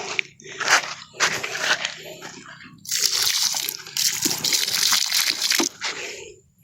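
Water splashing and pouring onto plants in uneven bursts, with wet trickling and crackling close by, growing steadier toward the end.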